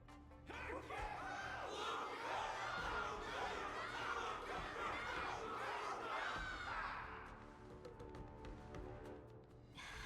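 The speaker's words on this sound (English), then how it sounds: "Everyone's cheering for you, Luca." A cheering crowd roars in the video game Honkai Star Rail, a dense swell of voices and shouts that holds steady for several seconds before thinning out into scattered, quieter calls near the end.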